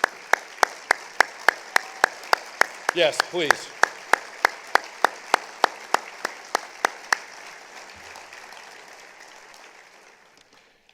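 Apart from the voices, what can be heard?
audience applauding veterans at a county forum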